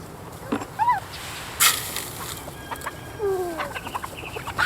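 Chickens on a small farm give short clucks and chirpy calls at close range during morning feeding, with brief human voices and scattered farmyard noises around them.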